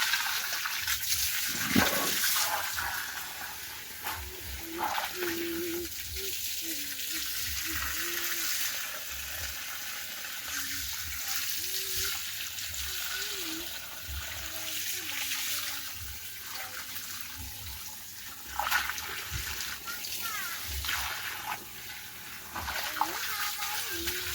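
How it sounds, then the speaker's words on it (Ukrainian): Cucumbers watered at the roots in a vegetable garden in the evening, a running stream of water splashing and gurgling into the soil, varying as the flow moves, with intermittent chirping and speech in the background. "Намагаюся так під корінь заливати."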